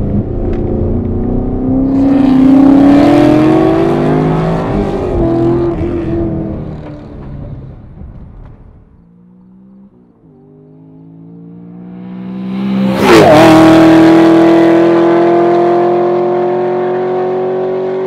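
A 636 hp Chevrolet Camaro Z/28 accelerates hard, its engine climbing loud and close through the gears. It eases off briefly, then roars up again in a sharp, aggressive surge.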